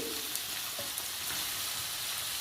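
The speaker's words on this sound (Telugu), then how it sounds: "వంకాయలతో కలిపి వేయించుకోవాలి పేస్ట్ని కూడా" Eggplant frying in a pan together with a coconut, chili and chana dal paste, giving a steady close sizzle with faint stirring scrapes throughout, no voices.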